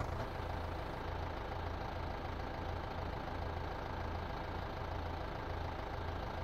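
Tractor engine idling in Farming Simulator 15, a steady low diesel rumble with a constant, even knock, continuous and fairly close with no talking.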